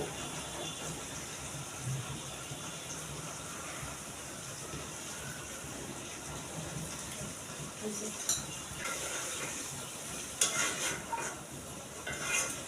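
Chicken roast being sautéed in a pan; a faint, continuous sizzle and hiss runs throughout, with occasional light clinks of a utensil near the end.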